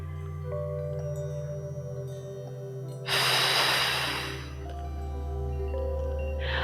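A single deep, audible inhale through the nose during Pilates breathing, a breathy rush lasting over a second against a steady low background drone.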